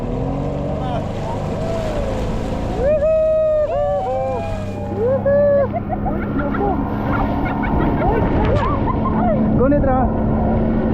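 A motorboat engine runs steadily beneath lively talking and shouting voices during a banana boat ride at Ranoh Island, Indonesia, with the low hum continuing the whole time.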